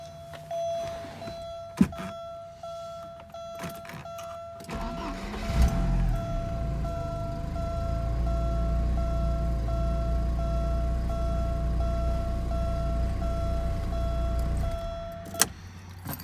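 A Porsche 944 Turbo engine with low oil pressure cranks after some clicks, catches and settles into a steady idle rumble before cutting off abruptly near the end, with a sustained beep tone.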